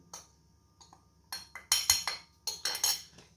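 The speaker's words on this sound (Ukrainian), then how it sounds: "І знову легенько збиваємо." Whisk strokes clink lightly against a bowl as cake batter for kefir cupcakes is beaten, a few soft taps at first, then a quicker run of bright, close metallic clinks in short bursts.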